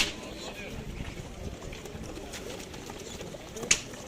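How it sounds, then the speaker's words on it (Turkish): Pigeons coo softly amid a busy, murmuring background of many birds at an outdoor bird market stall, with a sharp chirp near the end. "Kuşlar bol."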